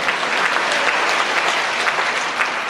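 A church congregation at a deaf ministry service breaks into dense, steady applause, many hands clapping together loudly and evenly throughout with no voices.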